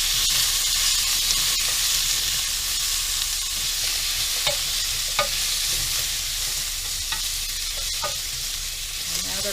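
Peppers sizzle in a pan with a loud, steady frying hiss, broken by occasional clicks and scrapes from stirring and no talk.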